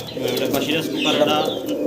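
Pigeons coo close by, throaty rolling calls overlapping one another and continuing through the two seconds, with a voice talking faintly underneath.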